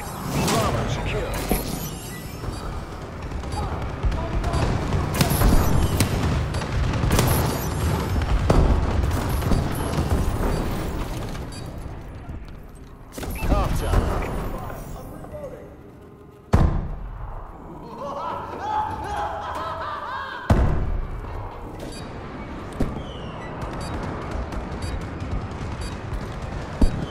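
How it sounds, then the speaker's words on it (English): A bombing run in Call of Duty: Advanced Warfare, with dense rolling explosions and gunfire thudding continuously, then scattered heavier booms; loud and close, with game voice callouts over the top. "Friendly bombing run clearing the way"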